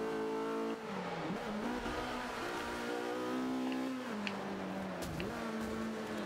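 A Lotus race car engine in Forza Motorsport 5 on a Prague circuit drones loud and steady, climbing through the revs with gear-change dips and rises, no voices over it.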